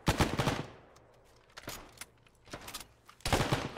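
Sporadic gunfire from a bunker in the Arma video game: sharp bursts of shots at irregular intervals, some grouped into short rattling volleys, with quiet gaps between them, moderately distant.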